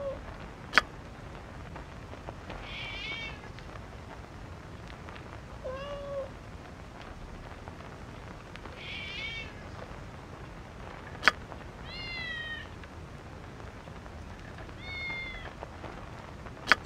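A cat meows in the fantasy role-playing game Icewind Dale 2: several short, clear, rising mews spaced a few seconds apart over quiet ambient background, with occasional sharp clicks between them.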